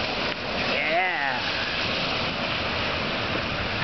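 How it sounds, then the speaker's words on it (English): Loud, dense hiss of heavy rain pours continuously on a street at night, close and steady throughout, with a brief rising and falling tone near the start. "Listen to that rain."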